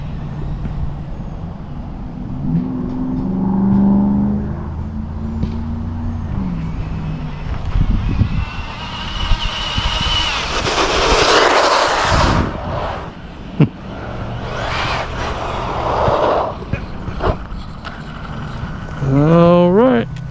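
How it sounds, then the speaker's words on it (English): A small cooling fan whirs inside a Traxxas Mini XRT RC car, a faint steady hum beneath louder motor whines, rolling and handling noises, with a person talking nearby. "hear that fan working in there"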